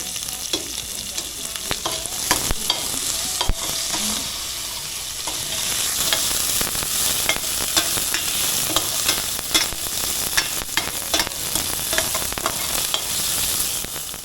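Onion, garlic and pimento fry in hot oil in a pot, a steady broadband sizzle that runs throughout with frequent sharp clinks and scrapes of a spoon stirring against the pot, close and fairly loud.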